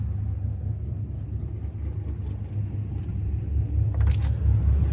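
A 1996 LT1 383ci engine built for a turbo Impala SS runs on a dyno with a loud, low, continuous rumble that swells as it revs near the end.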